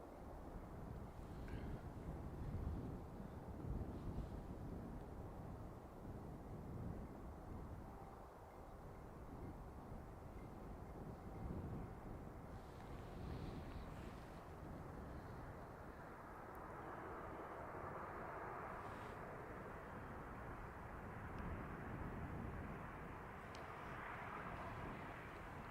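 A Ryanair airliner arriving from Lanzarote at Dublin Airport gives a low, distant, continuous roar of jet engines. The rumble holds steady for the whole stretch beneath faint wind noise.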